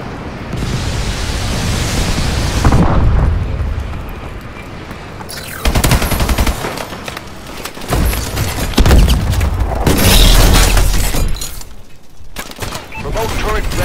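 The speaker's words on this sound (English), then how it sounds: "Friendly bombing run incoming." Call of Duty: Advanced Warfare bombing run, loud rolling explosions and bursts of rapid gunfire in dense layered noise, with intermittent game voices.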